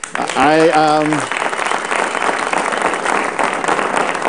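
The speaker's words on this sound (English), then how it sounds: "I think that deserves a round of applause, don't you?" Dense audience applause swells to a loud, steady roar on a talk show and keeps going without a break, with a voice speaking briefly over its start.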